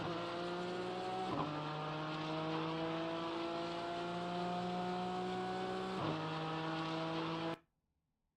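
A BMW GT4 race car in a racing video game at Daytona, its engine droning with steady harmonic whine across two gear shifts, loud and close, then cutting off abruptly.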